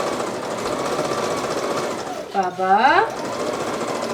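A sewing machine runs steadily while stitching the lining and shoulder pieces of a Halloween witch's cape made from thrifty remnants, a continuous close mechanical whir with a person speaking over it and a brief rising squeal near the end.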